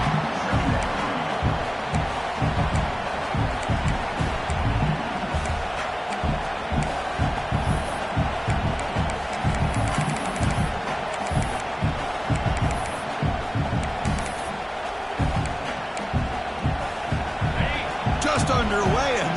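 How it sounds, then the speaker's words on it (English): A fired-up home crowd roars at a college football game in a video game, a dense, steady wall of cheering and shouting running the whole time with rhythmic thumps and swells. "this home crowd is fired up and ready to make a difference today"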